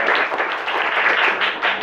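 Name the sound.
classroom applause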